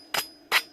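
A metal bike trailer extension tube gets two quick scraping strokes from a sanding tool to deburr its cut edge, each short and bright, close by with quiet between.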